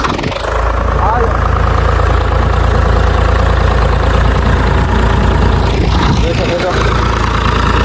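A diesel tractor engine runs steadily and loudly at close range, a constant low rumble that stays level throughout while a person talks over it.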